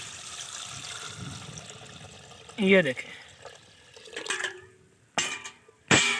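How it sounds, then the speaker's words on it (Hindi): Water is poured into a pot of bitter apples (kortumma) and lime for a murabba recipe. Short splashing, gurgling bursts come between and under a man's nearby speech. "हमने इसमें इतना पानी ऐड करेंगे कि इसमें ये डिप हो जाए।"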